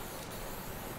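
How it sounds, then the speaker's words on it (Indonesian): Clear activator coat hisses steadily from an aerosol spray can onto a pastel purple helmet logo, a continuous close spray with no talking. "Semprot tipis-tipis saja dulu teman-teman, dengan jarak penyemprotan kurang lebih"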